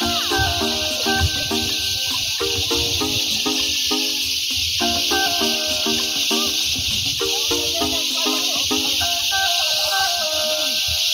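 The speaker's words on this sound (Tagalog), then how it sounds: "Parang yung kuliglig." Insects, likely crickets, drone loudly and without pause beside a cold river at a campsite in Tanay, Rizal, a dense high buzzing bed beneath intermittent voices and other nearby calls.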